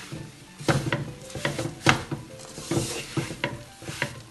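A spoon stirs a flour and sugar mixture for atte ki pinniyan, making rhythmic scraping and knocking strokes against the vessel, close and fairly loud, with no talking.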